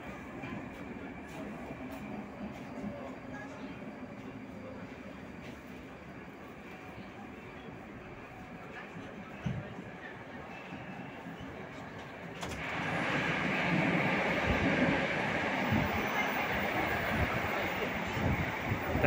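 Moscow metro train running between stations on the Big Circle Line, a steady rumble and rail roar that swells sharply louder partway through, with faint clatter and no talk.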